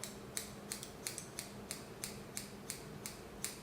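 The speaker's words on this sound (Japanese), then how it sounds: "縦にハサミを入れてぼかしてなじましていくというふうな、技法ですよね" Scissors snip hair during a thinning haircut, about ten crisp, evenly spaced cuts in a steady rhythm, close and clear against a quiet room.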